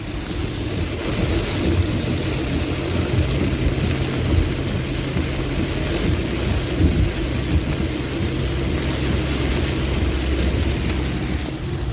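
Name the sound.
heavy rain while driving in Queensland floods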